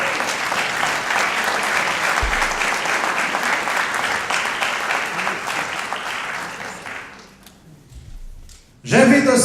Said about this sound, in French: On applaudit, mesdames et messieurs.